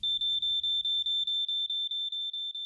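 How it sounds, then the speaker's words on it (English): A household smoke alarm beeps in a rapid, even series of about a dozen shrill, loud, identical tones, alone apart from a faint low rumble fading out early. "Make sure you fit a smoke alarm and test it weekly"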